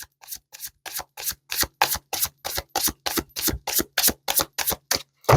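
Tarot cards are shuffled by hand in a rapid run of about twenty crisp riffling snaps at an even rhythm, close and clear with no talking.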